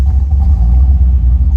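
A 1973 Corvette 4-speed roadster's engine catching and settling into a loud, deep rumbling idle right up close, with no talk.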